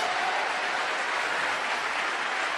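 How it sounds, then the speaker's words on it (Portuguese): Steady, dense applause from a church congregation fills the space, loud and even throughout with no pauses and no voices over it. "Então aplaude com vontade."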